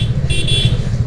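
A motorbike ridden slowly through a busy market on a ride toward Dehradun, its steady low engine rumble running throughout under surrounding traffic noise, with a brief horn-like tone partway through.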